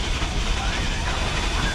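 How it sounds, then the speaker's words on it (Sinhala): Vintage light train at the Glenbrook Vintage Railway in New Zealand rumbles steadily with a broad hiss and faint rail clatter, loud and continuous while a voice talks over it. "ඔන්න එනවා ලයිට් ට්‍රේන්."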